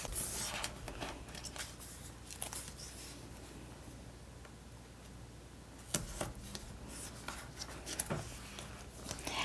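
Scissors cut a piece from a big roll of foam tape for a handmade card, with close, quiet snips and crisp cuts scattered among soft handling and rustling on a tabletop.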